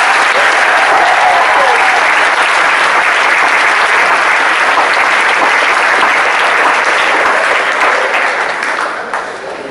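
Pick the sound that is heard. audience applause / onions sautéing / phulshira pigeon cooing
audience applause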